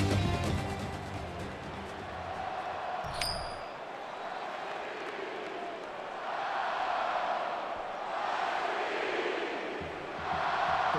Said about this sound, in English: you can feel the thunder in the crowd as they await the start of this game